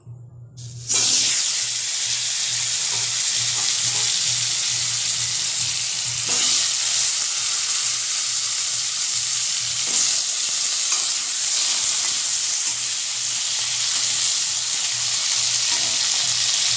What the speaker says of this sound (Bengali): এবার আমি তেলে দিয়ে দেবো পনিরের জন্য কেটে রাখা ডুমো ডুমো করে কেটে রাখা আলু